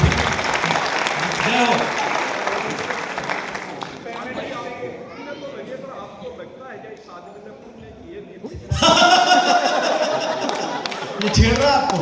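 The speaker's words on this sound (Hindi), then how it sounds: "एक बार हाथ खड़े करके जोरदार तालियां" Audience applause at a Hindi comedy and satire stage show in Agra, a burst of clapping that eases off mid-stretch and then swells loudly again, with voices mixed in.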